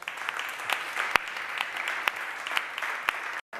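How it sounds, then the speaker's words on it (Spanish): An audience at a seniors' association gathering breaks into sustained applause, with dense, steady clapping and a few sharper individual claps standing out, nearly uninterrupted until a brief dropout near the end. "Un fuerte aplauso también para él"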